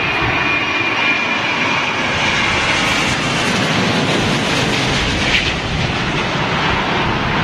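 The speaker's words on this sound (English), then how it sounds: "Here we go, Dreamliner, British Airways." A British Airways Boeing 787 Dreamliner lands at London Heathrow in stormy, windy weather, its loud, steady engine roar filling the air without a break and with no voices over it.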